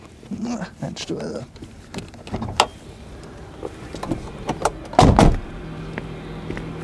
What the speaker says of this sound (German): Das Wumms bei den Türen hat natürlich einen tollen Sound.